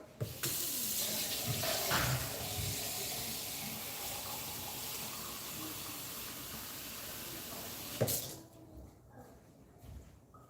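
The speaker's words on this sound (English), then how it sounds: "I'm adding warm water." Warm water runs from a kitchen tap for Nigerian soup, a loud steady hissing stream for about eight seconds before cutting off abruptly, leaving quiet room sound.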